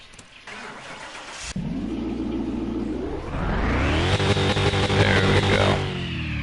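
A car engine in Car Mechanic Simulator 2021 cranks briefly, catches and starts, then settles into a rough idle before revving higher, loud and close, with no voices.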